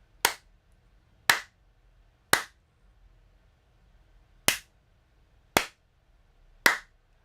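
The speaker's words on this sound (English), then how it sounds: "Let me clap." Six sharp hand claps ring out alone in an indoor room, recorded through a boom microphone, spaced about a second apart with a brief gap in the middle.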